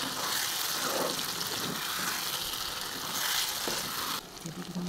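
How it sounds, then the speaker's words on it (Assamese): Paneer cubes frying in a pan for palak matar paneer, a loud, dense sizzle that holds steady and then eases off slightly near the end. "এইখিনি মই অকণমান সময় এনেদৰে ভাজি ল'ম"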